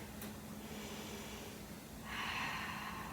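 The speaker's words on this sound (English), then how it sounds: "taking deep breaths" A person holding a yoga garland squat breathes deeply through the nose, with soft, close inhales and a longer, louder breath near the end over quiet room hiss.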